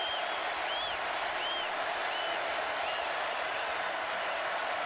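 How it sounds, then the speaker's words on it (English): A large football stadium crowd at LSU versus Alabama in 2019 keeps up a steady, distant roar of cheering and clapping, with faint whistling tones rising over the constant wash of noise. "Now the crowd into it."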